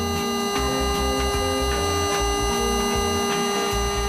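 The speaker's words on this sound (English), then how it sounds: "The pump will first sound something like this." A steady electric SUP inflation pump (Aquaglide 12V, 20 PSI) whirs and hums loudly with a faint rhythmic pulsing, running continuously without any talking.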